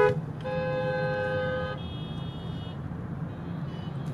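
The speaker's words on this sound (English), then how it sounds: "Oh, everybody honking at them." Car horns honking on a street near a roadside gathering, with one steady horn blast held for over a second, then a thinner tone that trails off, all over a low hum of traffic.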